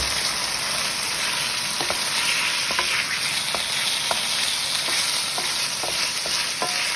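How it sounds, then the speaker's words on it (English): Crayfish sizzle steadily in a hot pan for crayfish pasta, with a constant frying hiss broken by several sharp clicks and scrapes of stirring, close and moderately loud, no talking. "Now we're going to put in the crayfish. And give it a good cook up for a minute or so."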